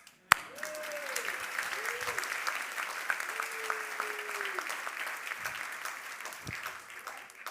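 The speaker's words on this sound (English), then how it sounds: "You can clap for that." Sustained audience applause fills a banquet hall, a dense steady patter from start to finish, with a sharp knock near the beginning and faint tonal sounds beneath.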